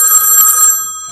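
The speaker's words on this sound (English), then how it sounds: "Well, I think it's the phone." A telephone rings with a loud, bright electronic trill that sounds once and then cuts off, close and alone, followed by a short quiet tail.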